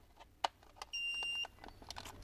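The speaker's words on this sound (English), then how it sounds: "You're gonna hear a few beeps." A single short electronic beep from a remote engine starter module being installed in a Kia Optima, steady and high-pitched, over quiet background clatter and faint handling noises.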